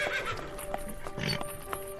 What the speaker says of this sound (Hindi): रानी का घोड़ा जब लाया गया